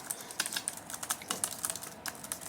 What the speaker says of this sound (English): the keyboard here is actually pretty nice